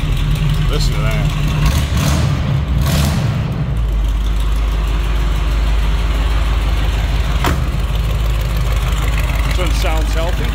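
A 1971 Chevrolet Nova two-door post's engine idles with a deep, steady rumble, loud and close, with a brief rise in the first few seconds before settling into an even burble.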